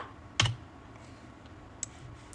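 A single computer keyboard key press, a sharp close click near the start, followed by a fainter tap later, against a quiet room background with no talking.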